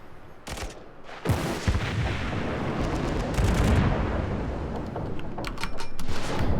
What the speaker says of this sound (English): It looks like his secondaries are starting to shoot at me.